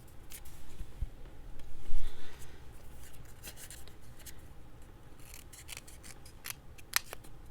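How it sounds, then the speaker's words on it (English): Small scissors snip through paper while crafting a mini hinge journal, quiet rustling and handling noises broken by a few sharp, close clicks of the blades near the end. "Maybe if I use smaller scissors."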